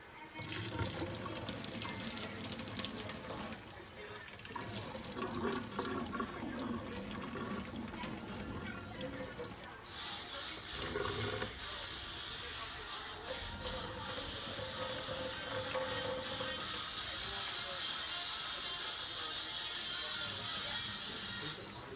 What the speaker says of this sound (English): We're gonna drain all the water out.